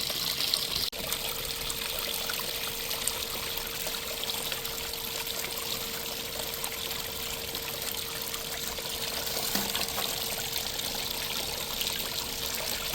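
Steady water rushes and trickles through a gold prospecting sluice in West Virginia, a constant close wash of flowing liquid across the whole stretch with no voices.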